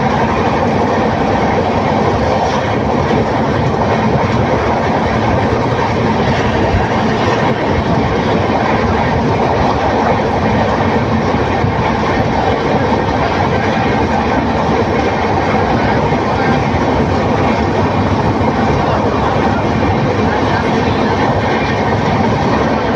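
A passenger train running at speed between Coimbatore and Erode makes a loud, constant rumble with rail clatter and wind roar for the whole stretch, heard from inside the carriage with a voice faintly under the noise.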